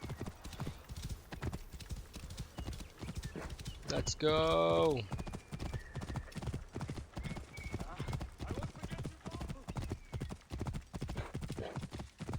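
Rhythmic clip-clop of horse hooves trotting steadily in the video game Assassin's Creed Origins, with a loud whinny partway through and a brief spoken remark.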